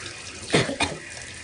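Running tap water while afro hair is washed, heard as a steady close trickle with two brief louder splashes and no talking.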